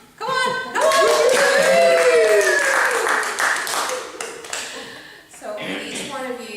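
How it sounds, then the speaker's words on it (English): Group of people clapping hands in a lively class session, a dense steady burst of claps mixed with cheering voices and shouts, loud and close, thinning briefly before picking up again. "I'm gonna ask you all to give me some happy claps"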